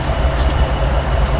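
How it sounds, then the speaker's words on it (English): A CSX GE AC6000CW locomotive in Train Simulator 2019 rumbles steadily under air braking, with a heavy low drone and faint metallic squeal above it, close and continuous. "I'm using the air brakes as the electronic brake on this train appears to be very weak"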